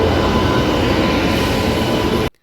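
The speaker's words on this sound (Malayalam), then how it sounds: "അങ്ങനെ ഞങ്ങൾക്ക് പോകാനുള്ള ട്രെയിൻ വന്നിട്ടുണ്ട്." A passenger train pulling into an Indian railway station on a trip to Varanasi, loud continuous rumbling of wheels and carriages close by, cutting off abruptly near the end.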